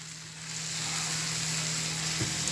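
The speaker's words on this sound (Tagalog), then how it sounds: "At susunod ko pong igisa is yung karne." Small, thinly sliced pork pieces sautéing in a pan give a loud, steady sizzle that builds slightly and stays constant, close by, with faint stirring and no voices.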